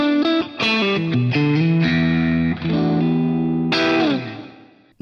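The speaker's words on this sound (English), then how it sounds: "So you get these incredible glassy sort of breakup tones." An electric guitar plays a run of notes with a glassy, lightly overdriven breakup tone, ringing out clearly before fading.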